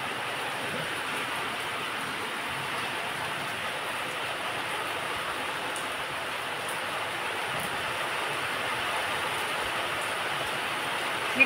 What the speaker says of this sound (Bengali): ভালোই জোরে বৃষ্টি পড়ছে।